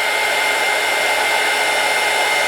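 A blow dryer runs at a constant loud whir throughout, drying a wet collage page for a junk journal cover, with no break in the sound and no speech over it.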